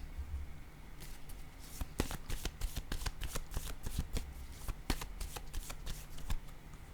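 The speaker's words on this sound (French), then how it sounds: "Je vais déposer une carte sur ces deux-là" Tarot cards are handled and laid down during a reading, making quick papery flicks and soft slaps in an irregular close run, quiet, with no speech.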